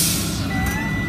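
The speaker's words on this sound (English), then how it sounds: "my low air warning has just activated" Low air pressure warning buzzer in a truck's cab, triggered as the brake pedal is pumped down during a California DMV air brake pre-trip check; a steady tonal sound sits over loud engine rumble for the whole moment.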